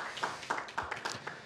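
A gathering at a Korean Christian suicide-prevention event claps to thank its partner organizations. The applause is brief, scattered and moderately close, with uneven bursts of hand claps.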